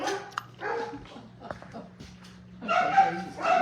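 Rescue dogs at breakfast whimper, yip and give short barks in a close, lively series, while a person talks over them.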